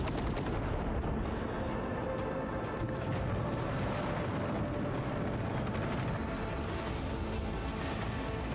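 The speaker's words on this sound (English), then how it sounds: "Engage the macro cannon." Macro cannon fire from a starship in the Warhammer 40k Rogue Trader video game rumbles as a dense, continuous barrage of heavy booming blasts, loud and sustained throughout with no speech.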